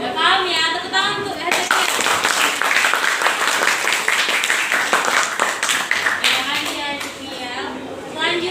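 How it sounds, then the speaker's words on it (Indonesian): Classroom applause at a vocational high school, dense clapping from many students sustained throughout, with a few voices and children's chatter mixed in. "Tepuk tangan untuk"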